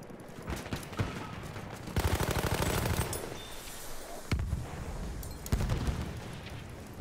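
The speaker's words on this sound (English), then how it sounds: "I hear some gunshots back here." Gunfire in Battlefield 1 multiplayer: rapid machine-gun bursts and scattered shots, some near and loud, others more distant, with explosive rumbles running through the battle and almost no speech.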